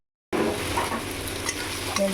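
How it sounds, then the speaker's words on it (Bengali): Onions stirred in hot oil in a pan, a steady close sizzle with scraping stir strokes running continuously after a brief silent start, no voices. "পেঁয়াজগুলো দিয়ে একটু নাড়াচাড়া করে নেবো"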